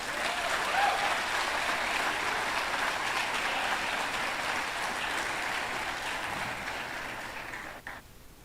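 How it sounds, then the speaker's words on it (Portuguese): A church congregation applauds during a sermon. Broad, sustained clapping from a large room fills the clip and gradually thins out toward the end. "Eu quero que você aplauda Jesus por essa."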